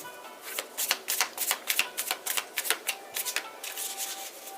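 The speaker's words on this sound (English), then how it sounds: "I'm going to do 3 shuffles." Close-up riffle of tarot cards being shuffled, a quick series of crisp papery flutters in short bursts, with no one speaking.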